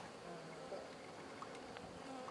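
Honeybees buzzing steadily around an open hive during a hive installation, a faint continuous drone of many insects with no clear speech.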